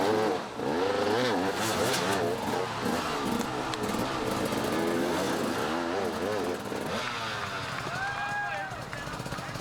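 An enduro motorcycle revs hard over rough, rocky terrain during the 2008 Erzberg Rodeo hard enduro race, the engine roaring steadily throughout under continuous loud commentary.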